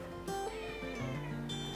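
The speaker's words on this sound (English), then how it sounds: "a 10-month-old stray cat" A 10-month-old stray cat meows at an animal shelter, a short drawn-out plaintive call heard close and alone.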